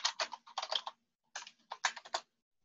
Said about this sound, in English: We've got someone who's typing vigorously.